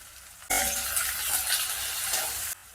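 Onions, curry leaves and green and dried chillies crackle in hot oil as a tempering for sambar, a sudden bright sizzle that bursts in, holds steady for about two seconds at moderate level, then cuts off.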